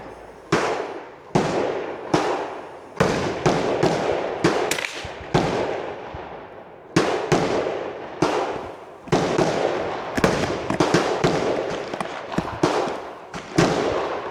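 Gunshots from a Ruger rifle at an ODNR shooting range, a long series of loud, sharp cracks with ringing tails, some spaced apart and some in quick clusters, nearby and alone without talk.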